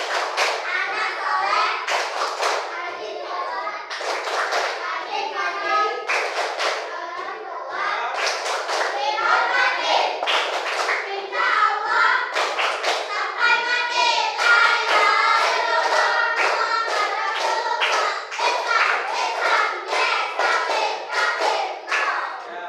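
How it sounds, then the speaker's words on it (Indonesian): A class of children performing the 'Tepuk anak soleh' clapping chant in an Islamic classroom, with rhythmic bursts of hand claps mixed with loud sung and chanted children's voices throughout, close and lively. "Tepuk anak soleh."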